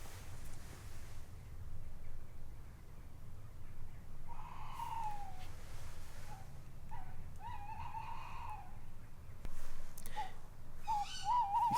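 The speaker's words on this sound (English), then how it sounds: "this is a tawny owl, and we can tell it's a male from the call it's making" A male tawny owl calls several times from nearby in a derelict coal mine, its hoots and wavering notes rising over a low steady background rumble.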